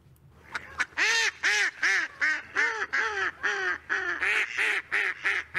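Recorded waterfowl calls: a close, loud series of about twelve nasal honks and quacks in a steady, evenly spaced rhythm, each a short rising-falling call, with no talking.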